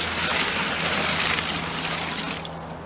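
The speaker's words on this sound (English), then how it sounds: "We just fill up a bucket here inside, just normal hot water, like in the bathtub." Hot tap water runs steadily into a bucket indoors, like a bathtub faucet, a loud continuous gushing splash that eases slightly toward the end, with no voices.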